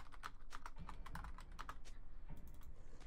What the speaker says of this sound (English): I'm gonna type it just in case.